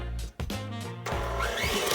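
A KitchenAid stand mixer with its paddle attachment beats butter into a biscotti mix, running as a loud, steady motorised whir that pauses briefly and then resumes with a rising, busier churn.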